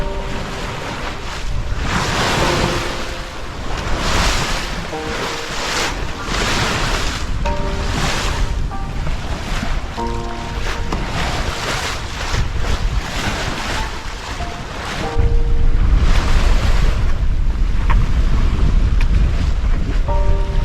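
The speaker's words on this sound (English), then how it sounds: "This is sailing." A sailboat runs steadily west across open ocean, with broad wash of waves and surf against the hull and gusting wind buffeting the microphone; the rush grows louder and heavier toward the end, with no voices.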